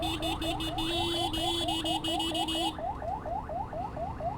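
An ambulance siren sounds on a road with a rapid, repeating yelping wail. A steady high alarm tone runs under it for the first few seconds, then cuts off while the rising sweeps continue.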